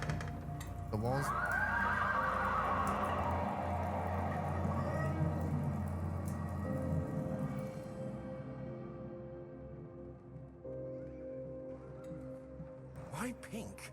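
A pink horse in a video game neighs loudly, a long whinny with falling harmonics, alongside clip-clop hooves and low rumble; sound fades after about eight seconds before brief clatter at the end.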